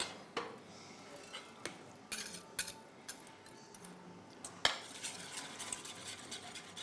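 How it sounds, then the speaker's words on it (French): Soft irregular clinks and scraping taps of a utensil stirring mug cake batter in a glass, faint and close, with small clatters throughout and no voices. "on fait ça à la cuillère et puis après, rapidement, on va prendre le fouet"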